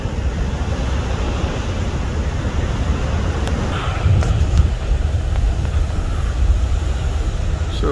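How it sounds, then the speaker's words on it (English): Steady roar of ocean surf breaking on the shore at Little Whale Cove, Oregon, with broad rumbling wash, swelling slightly midway as heavier waves break, mixed with some wind buffeting; no voices. "Just so much fun watching the wave action"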